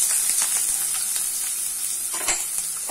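Chopped onions with green chilli sauté in a pan, a continuous close sizzle and hiss broken by brief scraping stirs, with no one talking.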